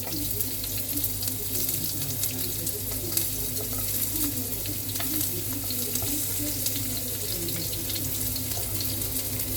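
Onions cooking in a pan for a leftovers gratin give a steady, continuous sizzle and crackle with a low constant hum underneath, no voices.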